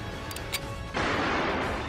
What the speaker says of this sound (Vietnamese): và cả tiếng súng nổ